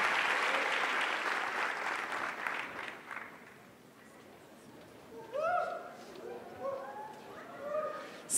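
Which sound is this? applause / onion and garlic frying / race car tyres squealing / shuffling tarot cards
applause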